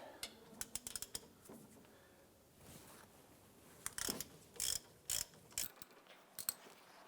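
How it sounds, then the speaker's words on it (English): A hand ratchet with a 17mm socket loosens the rear brake caliper bracket bolts on a 2012-2017 Toyota Camry, giving quiet clicking runs and sharper metallic clacks near the end, close up with brief faint talk. "We're going to go ahead and use our 17mm socket and a ratchet to go ahead and loosen and remove these."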